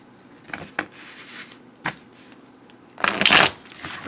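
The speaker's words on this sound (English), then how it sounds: "let's give this a good shuffle so you can take a look at it" Tarot cards from a Celtic Dragon Tarot deck are riffled and shuffled in several short, crisp bursts, the last one longest and loudest, close by with no talking.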